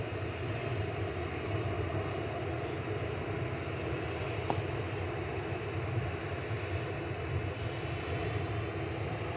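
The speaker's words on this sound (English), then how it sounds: "KLM landed in the background." KLM airliner at Manchester Airport after landing, a continuous moderate jet engine rumble with a steady hum, heard alone at middle distance without voices.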